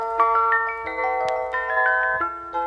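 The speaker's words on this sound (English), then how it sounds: "It is the ice cream truck." An ice cream truck jingle plays as a bright, bell-like melody of short tinkling notes in a steady, bouncy rhythm, fairly loud and clear.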